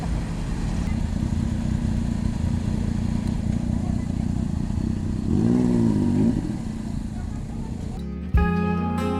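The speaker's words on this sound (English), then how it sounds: "the symphony of motorcycle exhausts" A Triumph Tiger 900 Rally Pro motorcycle on an open road, its exhaust giving a steady, loud drone while riding, with a brief rising rev near the end and a voice talking over it.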